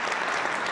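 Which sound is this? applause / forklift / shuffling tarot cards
applause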